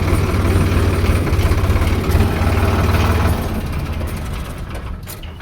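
A tractor engine idles nearby among tractors parked in a row at a village festival. The low, rhythmic chugging eases to a quieter rumble after about three seconds.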